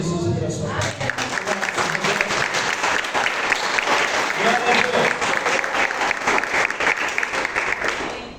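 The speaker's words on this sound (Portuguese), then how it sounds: "Aplauda Jesus pela sua parte." Church congregation applauding during a worship service, dense sustained clapping filling the room at a loud, even level from start to finish.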